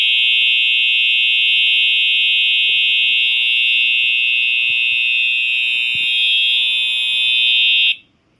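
Fire alarm under test: a loud, steady high-pitched electronic tone blaring continuously for about eight seconds, close up, with faint background clicks and handling noise before it cuts off abruptly.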